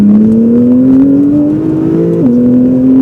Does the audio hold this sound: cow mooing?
no